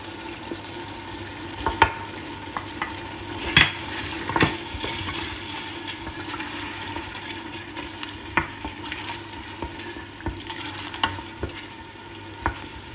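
Tomato sauce with spices frying in a pan for Tunisian fish couscous, with a steady sizzle and repeated light taps and scrapes of stirring throughout.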